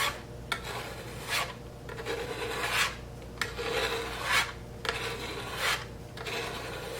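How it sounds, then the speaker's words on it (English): Spatula scraping cookie crumbs off the edge of a cookies-and-cream cake on a turntable, a rhythmic series of soft gritty rasping strokes, each about a second long, close and clear with no talk. "I'm just going to carefully go around the edge of the cake and just kind of scrape all the extra cookie crumbs off"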